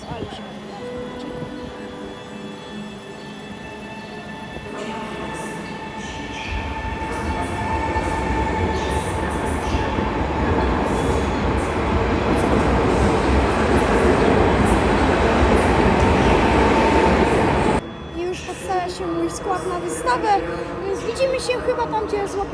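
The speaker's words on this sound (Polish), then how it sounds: "Odprawiony skład. Do Zgorzelca. Już odjedzie zaraz" A passenger train pulls out of a Wrocław station bound for Zgorzelec, its rumble and rolling wheel noise swelling steadily to a loud, sustained roar, then shifting abruptly near the end, with voices faintly present in the background.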